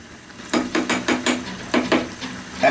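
A spoon clinks and scrapes around a pot of lau pata and shing fish curry, about eight short metallic knocks in an uneven rhythm, close and fairly clear with no talking.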